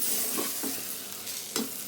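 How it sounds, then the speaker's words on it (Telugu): Stuffed brinjals frying in oil for gutti vankaya curry, a steady soft sizzle with a few brief scraping stirs near the pan, no voices. "నేను ముందుగానే వేపి పెట్టుకున్న ఆయిల్లో వంకాయలు చూసారా ఎలా ఉన్నాయో"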